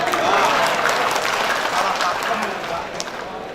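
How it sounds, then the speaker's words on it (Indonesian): Agricultural extension workers at a meeting break into loud, dense applause that stays steady and then fades slightly toward the end, with a voice or crowd murmur mixed in. "Tepuk tangan dulu dong"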